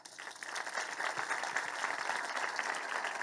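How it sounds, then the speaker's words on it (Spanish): Audience applause at a book presentation for "El tren de los panaderos", a steady wash of clapping from a sizeable crowd that swells after a moment and holds at an even, fairly loud level throughout. "Un fuerte aplauso para ellos."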